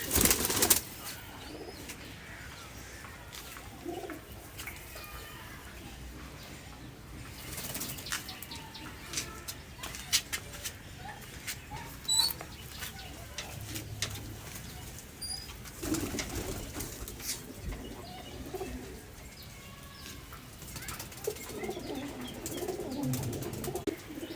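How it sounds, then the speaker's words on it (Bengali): Old Rampuri (Firozpuri) pigeons at a home loft, with soft cooing and bursts of wing flapping over a steady low background, louder flutters near the start and around the middle. "আরেক জোড়া আমার বাড়ির পুরনো কবুতর এগুলোকে অনেকে রামপুরি বলে আবার ফিরোজপুরি বলে"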